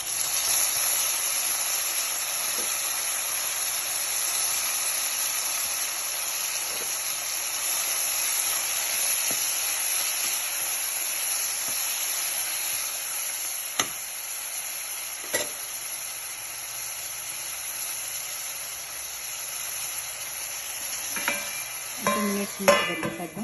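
Vegetables frying in a pan for brinjal biryani (vangi bath) with coriander and curry leaves: a steady, close broadband sizzle runs throughout, with occasional spoon scrapes and clinks of stirring near the end, no talking.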